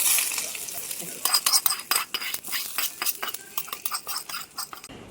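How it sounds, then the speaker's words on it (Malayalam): Mustard seeds fry in oil over a wood-fired stove, with green chillies and curry leaves, for a country chicken curry. A soft sizzle and scattered crackling mix with quick metal spoon clinks as the pan is stirred. "ഈ കടുക് വറക്കുന്നത്"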